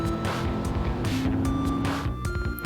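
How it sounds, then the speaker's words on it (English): Sports car engine in the GTA video game revs loudly and continuously, pitch climbing and dropping across gear changes, with a faint tire squeal near the end. "at least the engine sounds nice"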